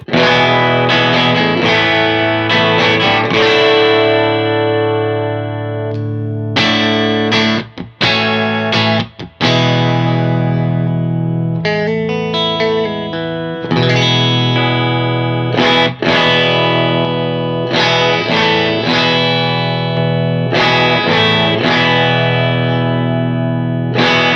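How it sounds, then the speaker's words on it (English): Electric guitar played loud through a Z-Verb spring reverb into a JTM45 amp at the limit of its headroom, strummed chords and ringing notes with short pauses, slightly gritty and washed in reverb. "this guitar through the Z-Verb into the JTM45 with the mics recording and balanced out"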